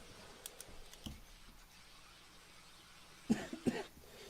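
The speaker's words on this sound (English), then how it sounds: "I hear you coughing" A person coughs backstage in a couple of short, close bursts near the end, after a stretch of quiet room noise with faint clicks and taps.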